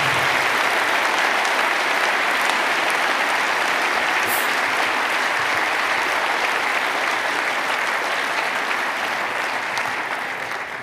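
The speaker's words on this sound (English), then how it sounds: "Give them a clap." A conference audience claps steadily after a security talk at a hacker congress, a dense even wash of applause that holds throughout and fades slightly at the close.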